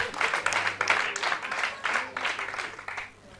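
An audience at a Gen-Z stand-up comedy show claps in steady, dense applause that swells and fades, close and loud, with no voices over it.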